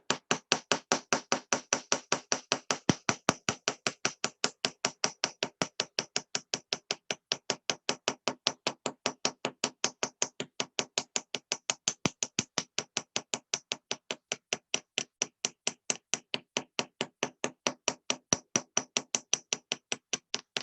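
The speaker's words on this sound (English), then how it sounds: "And I'm just going to hammer." A hammer strikes a metal stamping blank taped down to a steel block, in a fast, steady stream of sharp ringing taps lasting the whole stretch, close and evenly spaced with no talking.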